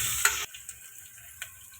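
Onion and curry leaves sizzle in hot oil inside a pressure cooker, with a bright sizzling burst followed by quieter crackling and a few faint ticks.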